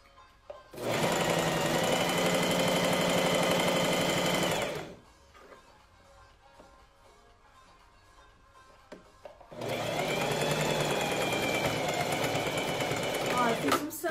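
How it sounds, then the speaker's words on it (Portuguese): A sewing machine stitching a fabric facing onto a strap at stitch length 3 runs in two long, steady, loud whirring bursts, with a quieter pause between them filled with faint handling noise. "E agora eu tô costurando aqui o revel junto com a alça."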